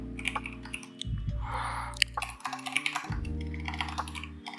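Typing on a computer keyboard, a run of quick irregular key clicks and taps close to the mic, with a low background hum and no talking.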